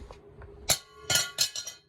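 A metal part for a Yamaha Warrior 301 is dropped and bounces, giving a few bright, close metallic clinks and rattles in quick succession, alone without speech.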